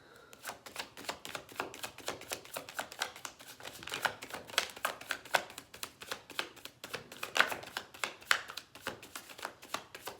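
Tarot cards shuffled by hand during a reading, a rapid run of crisp, close riffling clicks and flutters continuing steadily for about ten seconds, quiet and without talk.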